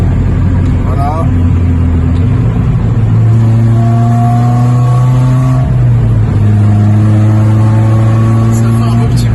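A Mercedes CLK engine and exhaust sound close and loud from inside the car with the windows shut on a road test, the tone climbing as it accelerates and dropping back at two gear changes.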